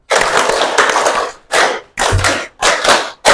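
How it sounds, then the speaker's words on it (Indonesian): Children clap together in loud, dense bursts separated by short pauses, following a counted rhythm pattern in a classroom activity. "Tepuk 1, tepuk 1, tepuk 2, tepuk 5 2 kali."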